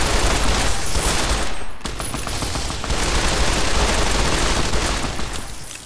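Sustained automatic fire from a mounted machine gun in Fallout New Vegas, Lonesome Road DLC, a loud continuous rattling burst with a brief dip near two seconds before the firing resumes.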